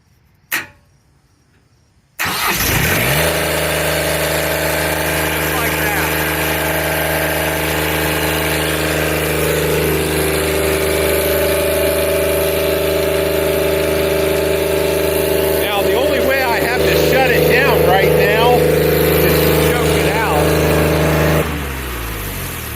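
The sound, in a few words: engine of the ETR hot-wired to start, then running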